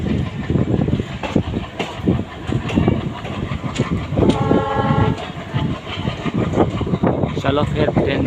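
Train rolling through hilly country with continuous clattering wheel rhythm and rattling, a horn sounding midway, and a voice talking intermittently over the rail noise.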